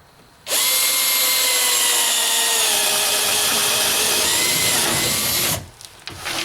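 A Bosch DDB181 compact 18-volt cordless drill set to low-speed mode 1 bores a 1-inch spade bit hole through OSB, a loud steady whine with rough cutting texture for about five seconds before it stops.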